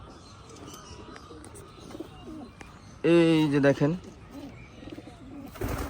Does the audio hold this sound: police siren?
no